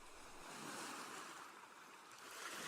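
Gentle ocean waves wash softly in a continuous low hiss of surf, faint and distant with slow swells in loudness, no voices.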